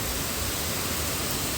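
A rain shower falling outdoors over a home food garden with Scotch bonnet pepper plants, a steady broadband hiss that stays even and continuous from start to finish with no voices.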